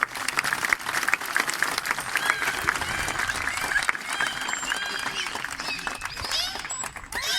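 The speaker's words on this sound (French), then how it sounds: "On peut les applaudir bien fort quand même." Applause from the audience at a dolphin show, sustained crowd clapping with cheers and whistles over it, lively and close. Scattered voices and animal-like squeaks mix in throughout.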